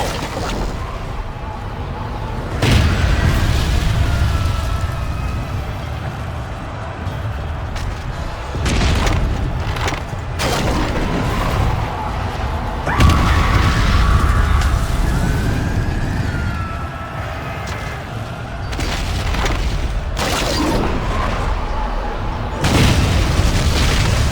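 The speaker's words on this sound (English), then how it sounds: "Fire the catapults! Destroy them now!" Catapults fire and their loads explode in a Lord of the Rings: Conquest siege battle, heavy booming impacts recurring every few seconds over a dense, roaring battle din with wailing, siren-like tones and no clear talk.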